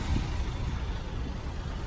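An Acura TLX A-Spec sedan idles steadily just after start-up, a low, even engine hum heard quietly with no voices.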